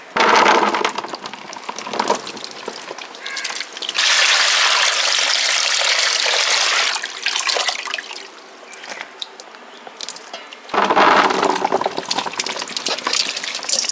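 Grapes being washed by hand in a bowl of water for Christmas grape wine, with bursts of splashing and sloshing broken by quieter stretches of dripping and handling, loud and close with no talking.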